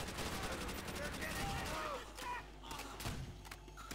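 Bursts of Thompson submachine gun fire in the video game Call of Duty: World at War, rapid automatic shots heard over game background noise while a person talks.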